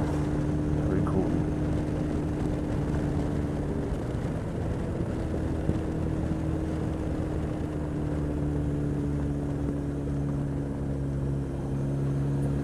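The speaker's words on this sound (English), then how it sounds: "The bike that I'm riding, the Honda X4, is a bit of a heavy beast." A heavy Honda X4 motorbike fitted with saddlebags cruising on a highway in South Korea, a continuous droning engine hum with steady wind noise throughout, loud and close.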